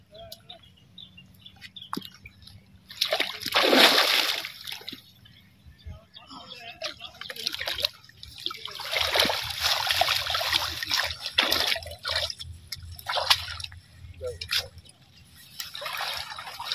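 Fast-flowing floodwater in a fishing spot rushes and splashes in uneven surges close by, with bursts of louder splatter rising and falling over a steady watery background.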